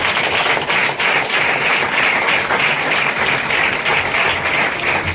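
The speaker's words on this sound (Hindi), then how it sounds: "हम लोग जोर से ताली लगाएं।" Church congregation at an Easter service applauds loudly, steady dense clapping from many hands filling the room continuously for several seconds.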